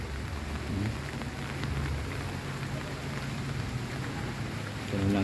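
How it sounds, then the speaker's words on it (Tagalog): Steady heavy rain pours down in Taytay, Rizal, during Super Typhoon Pepito, a dense continuous hiss of drops on surfaces with no voices, holding constant throughout and swelling slightly at the end. "Maulan guys."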